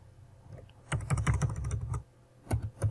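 Keys tapped on a computer keyboard while typing a file name, a short close burst of quick clicks, a pause, then a few more taps.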